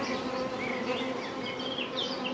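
Honeybees in a beehive super make a dense, continuous buzz of many wings, close and steady, with individual bees' pitches wavering above the drone.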